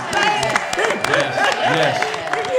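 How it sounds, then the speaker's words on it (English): Live podcast audience claps and cheers in a short, dense burst of applause that fills the room close by. "We're gonna give you a round of applause for that one."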